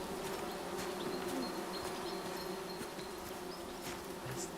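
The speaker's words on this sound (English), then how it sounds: "there's the bee noise, but I don't see them" Bees drone continuously in the woodland game Among Trees, a close, even buzzing hum that holds steady throughout with light flickers of other insect noise and no voices.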